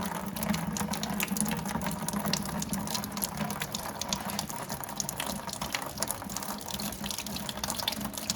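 Coolant pours steadily from a 2008 Yamaha YZ450F radiator into a bucket, a continuous close gushing splash like a running tap that holds at an even level for the whole stretch.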